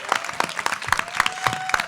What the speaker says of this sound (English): come on, a big round of applause for them